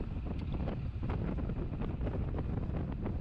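Wind buffeting the microphone outdoors at a hot, windy evening bike race, a steady low rumble with gusty thumps, fairly quiet and continuous with no voices.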